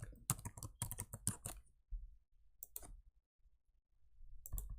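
Bursts of quick keystrokes on a computer keyboard, a dense flurry of clicks up front, then a few isolated taps and a short final run, close and clear in a quiet room.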